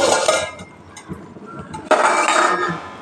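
A lid is lifted off a pot of moong dal and papaya curry, a metallic clink followed by a rush of hissing steam and sizzle, close and fairly loud, after an earlier burst of cooking noise.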